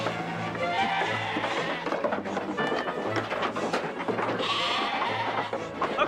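Several sheep bleat in short repeated cries over a busy background with some voices, moderately loud and fairly close, recurring every second or so.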